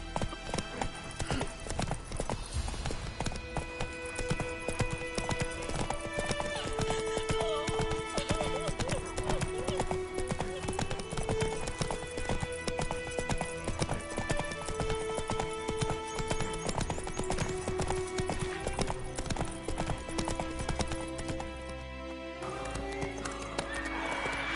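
A horse gallops in The Witcher 3 video game: rapid clip-clopping hoofbeats and an occasional whinny run steadily under a musical score, with brief voices heard near the end.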